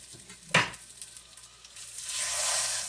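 Fresh sausage meets a heated pan: a sharp clunk, then a soft crackle that swells into a loud, steady sizzle, close by with no voices.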